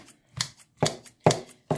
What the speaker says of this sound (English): I'm just going to take my scissors and do a coarse chop on it